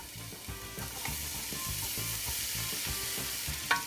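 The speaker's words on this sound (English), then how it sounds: "I will use both oil and butter to fry." Beef and onions frying in a mix of oil and butter give a soft, steady sizzle with repeated utensil scrapes and taps from stirring, close but fairly quiet, with no talking.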